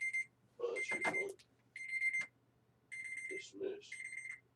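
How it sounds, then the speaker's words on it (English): A phone alarm beeps in repeated bursts during a talk show recording, a high electronic pattern sounding in a few clusters while people speak over and between the tones. "Yeah, your alarm went off."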